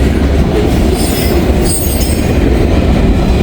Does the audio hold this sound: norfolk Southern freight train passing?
yes